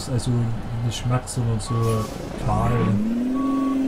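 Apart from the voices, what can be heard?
Western Star 4900FA truck reversing beeps in Euro Truck Simulator 2, video game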